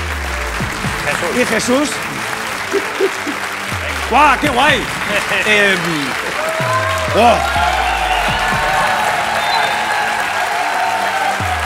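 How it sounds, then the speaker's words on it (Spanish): Audience applause at a music performance, a steady clapping wash under overlapping voices, shouts and brief tonal calls from the performers. "Estos aplausos son preventivos"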